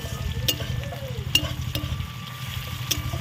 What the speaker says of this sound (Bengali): পেঁয়াজটা এবার ভালো করে ভেজে নেব।